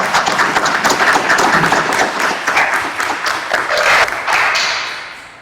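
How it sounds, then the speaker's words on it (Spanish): Audience at a lawyers' swearing-in ceremony before the Supreme Court applauding steadily in a large hall, the clapping dense and loud, then thinning and fading out toward the end. "Aplaudamos vuestro logro."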